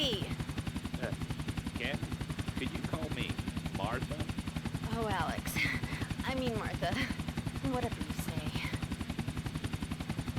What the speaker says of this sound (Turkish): Lan helikopter düşüyor.